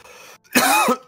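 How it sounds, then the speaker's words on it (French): A single sharp, throaty cough bursts out after a brief quiet moment, close and loud, with faint background murmur before it. "J'ai toussé."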